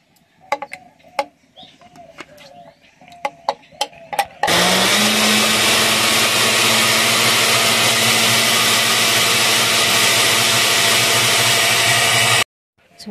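A countertop blender grinds chipotle chile salsa with garlic and water, running loud and continuous for about eight seconds and then cutting off abruptly, after a few sharp clicks and knocks.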